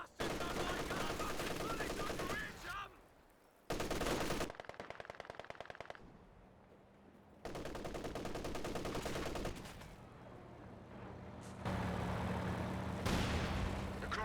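Machine gun fire in Company of Heroes 2 comes as loud, sustained bursts of rapid shots, broken by short pauses and quieter gaps, with occasional heavier explosions mixed in.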